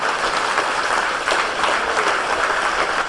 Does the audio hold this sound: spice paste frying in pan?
no